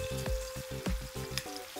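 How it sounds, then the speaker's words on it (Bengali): Eggplant slices sizzle and crackle steadily in hot oil in a pan, with a few sharp scraping sweeps as the pieces are turned over; close and continuous, no talk. "একটু উল্টে পাল্টে বেগুনগুলোকে ভেজে নিতে হবে।"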